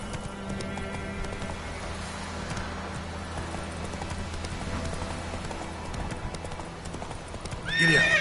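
Horse hooves clip-clopping steadily at a gallop in The Witcher 3, with a whinny near the end, all fairly quiet and continuous.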